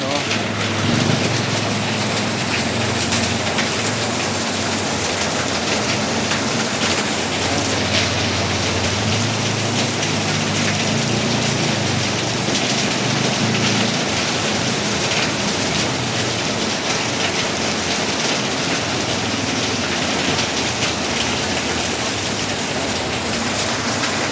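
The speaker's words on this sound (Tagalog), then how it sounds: "Lakas ng ulan." Heavy rain pours down steadily, a dense continuous roar of water that stays loud and unbroken throughout.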